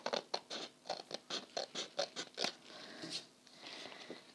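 Scissors trimming the uneven edges of paper pages on a junk journal, a close run of about ten quick crisp snips in a regular rhythm, then softer rustling paper as the cutting stops.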